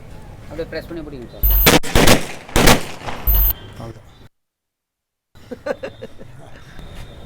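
An old film-set prop gun fires blank rounds in a few loud, close bursts, a trigger-pressed switch setting them off. Talk comes before and after the shots, with a brief silent gap.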